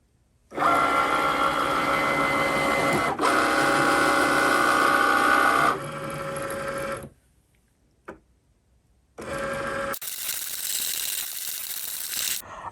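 A Cricut cutting machine slicing a silk screen stencil runs as a steady close mechanical buzz and whir, pausing briefly, stopping, then starting again with a brighter, hissing motor run near the end.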